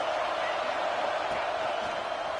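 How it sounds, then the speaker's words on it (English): Steady, dense roar of a football stadium crowd at an LSU versus Miami game, a continuous wash of noise with no distinct peaks throughout. "This crowd trying to make life miserable for this offense."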